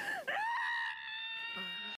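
A voice from an anime screams loud and sustained for about two seconds, the scream dipping briefly early on before holding a high, strained tone, with no other sound around it.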